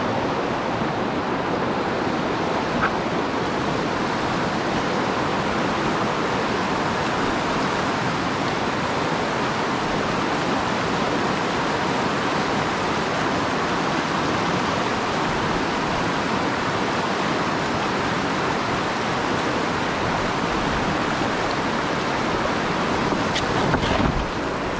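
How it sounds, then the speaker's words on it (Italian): A fast-flowing, swollen river rushes past in a steady, dense roar of water, constant and fairly loud, with no voices. "c'è tantissima acqua, ce n'è veramente tanta, corre da matti"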